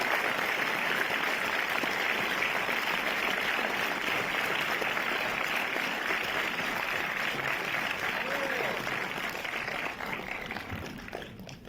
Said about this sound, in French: accueillons-la sous les applaudissements